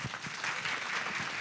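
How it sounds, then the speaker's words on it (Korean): Audience applause at a Korea Electric Power Corporation recruitment briefing for vocational high school students, a steady wash of many hands clapping, moderately faint and even throughout. "큰 박수 부탁드립니다."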